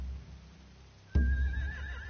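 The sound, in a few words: horses neighing in The Walking Dead video game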